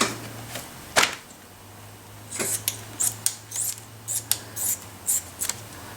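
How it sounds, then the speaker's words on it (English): Special scissors trimming rubber for stamp making in a workshop: a run of crisp, evenly paced snips, about a dozen close cuts following a couple of earlier clicks, against a low steady hum with no talk. "you need a special scissor to trimming the rubber"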